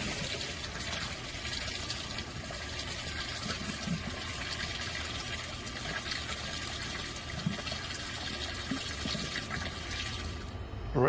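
Water steadily draining out of a painted barrel toward a pipe, a continuous rushing gush that holds at a fairly even level throughout, with no talking.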